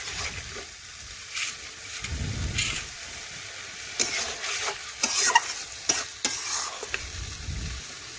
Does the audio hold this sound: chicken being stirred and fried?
yes